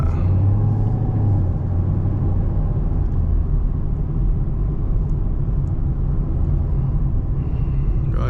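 A 900+ horsepower Camaro ZL1 engine while driving: a steady, deep rumbling drone from inside the car, loud and unbroken for the whole stretch.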